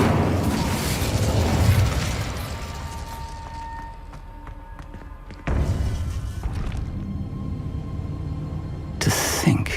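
Incendio fire spell from the video game Hogwarts Legacy: loud whooshing bursts and thuds of flame, a long roaring blast early, a second burst midway, then a sharp crackling flare near the end.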